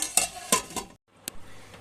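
A metal lid set down on a cooking pot of mackerel fish curry: a few sharp clanks and clatters in quick succession, then a pause and one more brief knock, close and fairly loud.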